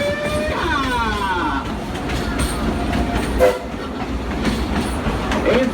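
The Frisco Silver Dollar Line excursion train at Silver Dollar City in Branson, Missouri rumbles loudly and steadily along the track, its horn sounding near the start over the ongoing clatter of the rail cars.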